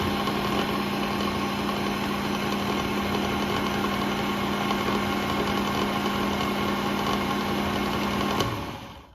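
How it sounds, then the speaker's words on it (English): LiftMaster 1000SDR garage door opener runs its gears with a steady close mechanical hum and drone, then cuts off abruptly near the end. "So obviously those gears in there turn."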